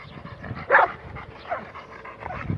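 A dog gives a sharp bark and then softer whimpering yips, close and fairly loud over a noisy background.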